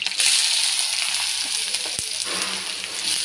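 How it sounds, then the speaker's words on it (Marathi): Green chilies splutter and sizzle in hot oil with browned garlic in a home kitchen pan, a steady bright frying hiss with a sharp pop near the middle, close and continuous, no talk. "त्याच्यामध्ये ही मी हिरवी मिरची टाकली आहे. हिरवी मिरची फडफडली"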